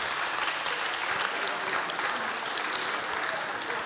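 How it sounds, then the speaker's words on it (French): Sustained, dense applause from an audience after a talk at a French event on women and science, steady and loud throughout with no pauses. "Oui, vous pouvez l'applaudir."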